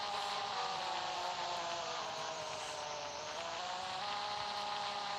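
Steady, continuous engine drone of a car being driven in the Roblox video game, a constant buzzing whine with no gaps, loud and close throughout.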